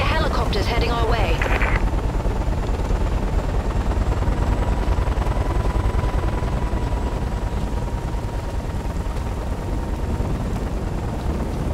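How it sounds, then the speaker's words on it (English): Steady, dense rotor roar of approaching helicopters in the video game Singularity fills the scene, with a brief burst of voice near the start and a faint tonal hum throughout. "I can hear helicopters heading our way."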